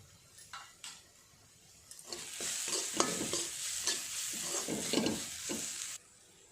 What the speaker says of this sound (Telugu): వేసేసుకొని బాగా కలుపుకోవాలి అలాగే కొంచెం గరం మసాలను కూడా వేసేసుకోవాలి